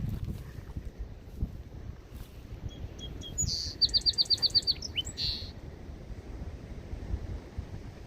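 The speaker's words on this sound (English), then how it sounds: "Little white-crowned sparrow singing." A white-crowned sparrow sings at Moonstone Beach, a short bright phrase with a rapid trill of about seven notes, heard against wind and low surf rumble.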